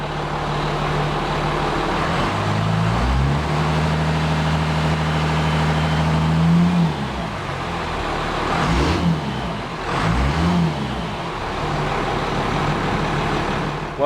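A car engine idles after a timing gear repair, then revs up and down several times in swelling bursts before settling back into a steady, close idle.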